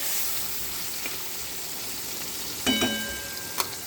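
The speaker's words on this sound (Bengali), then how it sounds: "আমি এখন মাছের তেল ভাজবো।" Fish fat frying in hot oil gives a steady hiss of sizzling throughout, broken by a sharp clatter of a utensil against the pan near the end and a brief tap just after.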